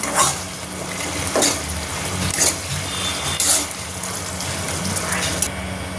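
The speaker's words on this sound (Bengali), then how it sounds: "দেখো ভিজে রাখা ফুলকপিগুলো দিয়ে দিলাম এরপরে অল্প একটু নাড়াচাড়া করবে" Soaked cauliflower fries in a pan, a close, steady sizzle with periodic louder scraping bursts as it is stirred.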